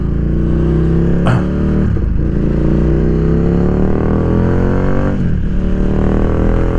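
A loud Ducati Diavel 1260 motorcycle engine roars steadily, its pitch climbing and dipping as it revs and accelerates, with a brief clatter near the start.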